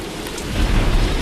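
Heavy rain pours down in a dense hiss while deep thunder rumbles and builds underneath.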